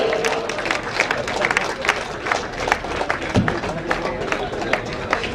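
An audience at the Tile Zone showroom inauguration in Nullippady applauds to welcome chairman K V Abdul Rahman to the stage. Dense, steady clapping fills the room, mixed with voices.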